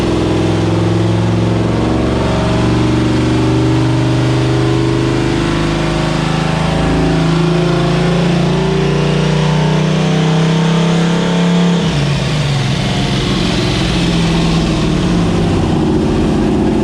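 Turbocharged car engine on a dyno during a full-power pull, a loud sustained rising drone that climbs steadily, then shifts near the end into a rougher, busier roar.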